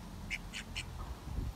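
Three quick quacks in a row from molting ducks, fairly faint, followed by soft low background noise.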